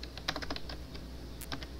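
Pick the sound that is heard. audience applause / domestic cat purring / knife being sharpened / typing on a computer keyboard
typing on a computer keyboard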